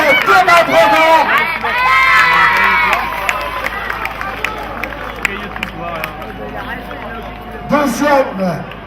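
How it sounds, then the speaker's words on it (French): A crowd cheers and claps for the winner at the finish of a race, loud and close at first, then easing into a lighter babble before a fresh burst near the end. "les applaudissements, regardez comme c'est beau"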